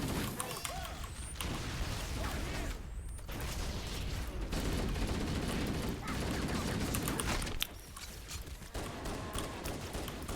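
Continuous fusillade of gunfire in the Halo Anniversary video game, with dense overlapping shots and mechanical clatter, while a person talks over it.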